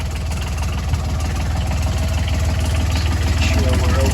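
A Volvo Penta marine engine idles with a steady, rapid low-pitched chug, loud and close throughout, with no one talking over it.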